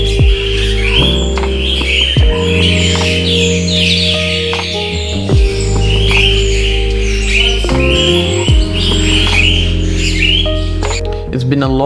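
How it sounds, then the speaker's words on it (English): Birds call at Blijdorp Zoo in Rotterdam, with scattered chirps and tweets over a steady low hum while a person talks nearby. "It's been a long time since I've seen these birds, absolutely stunning"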